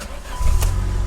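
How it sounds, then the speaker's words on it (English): A 1987 Dodge Daytona Shelby turbo engine cranks and catches with the hood open, the starter's brief whir giving way to a steady, fairly quiet low idle rumble. "I'm gonna start it with the hood open so you can hear how quiet the motor is."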